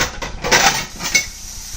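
Dishes being washed by hand, with ceramic plates and cutlery knocking and clinking together in a few quick, bright clatters nearby and no voice.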